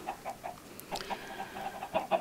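Soft, repeated chicken clucks in the video game Minecraft, in quick irregular bursts, fairly quiet, with no talking over them.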